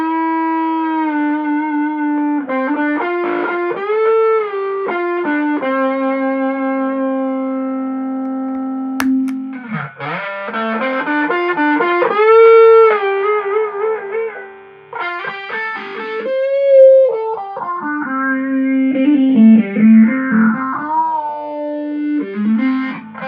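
Distorted electric guitar playing a sustained melodic lead through a distortion pedal with the EHX Small Stone Nano phaser switched off, with bends and held notes, loud and close.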